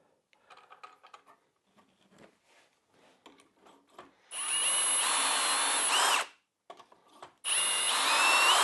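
Power drill boring into wood through a doweling jig, two loud sustained whining bursts of a few seconds each, preceded by quiet clicks and handling noises as the jig is set up.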